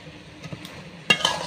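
Helencha greens stirred in a pan after the lid comes off: a few short, crisp scraping clinks of a utensil against the pan near the end, over a quiet faint sizzle.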